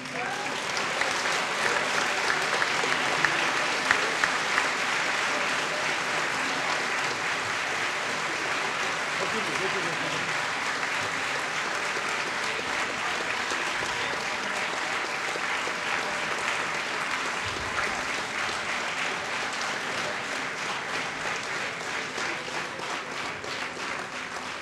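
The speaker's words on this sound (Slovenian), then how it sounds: "če bomo močno zaploskali, verjamem, da bomo dočakali tudi bis" A large outdoor audience applauds steadily after a concert by a brass band, dense continuous clapping filling the whole stretch with a few louder claps near the start.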